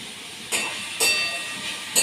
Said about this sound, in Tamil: நல்லெண்ணெய் ஊற்றி பிரண்டையை வதக்கணும்.